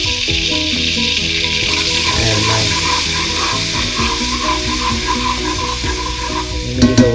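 Flour being whisked into lightly browned butter in a pan, a loud steady sizzle with rapid rhythmic scraping of the whisk against the pan, close and continuous.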